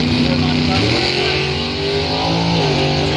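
Drag race cars launch down the strip at a Northern Michigan dragway bracket race, loud engine roar with harmonic rising pitch over crowd and announcer talk.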